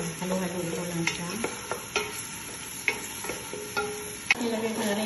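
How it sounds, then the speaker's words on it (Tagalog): Onion fries in oil in a pot while being stirred, with a continuous close sizzle under clear intermittent spoon clinks and scrapes against the metal. "nalagay na ako sa pot ng oil at nilagay ko na rin yung onion at haluhaluin ko lang siya"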